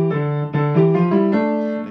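A short run of piano notes played with both hands, several clear strikes in a steady rhythm, close and bright.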